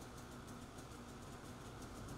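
A Polaris Voyageur snowmobile engine runs at a steady idle during a pre-ride check, giving a continuous, even mechanical drone with a low rumble and no breaks across the whole stretch.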